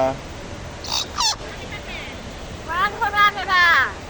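A pet myna gives a few sharp, sweeping whistled calls, first a short burst and then a longer warbling run, up close and loud, with people talking nearby.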